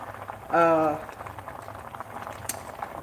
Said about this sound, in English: you see this has come up to a boil